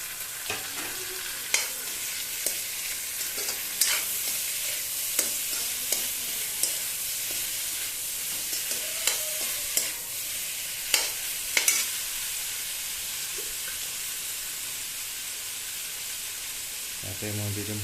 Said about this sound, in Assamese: আলুখিনিৰ লগত এতিয়া মই দিম বিলাহীখিনি, কাটি থোৱা 3টা বিলাহী।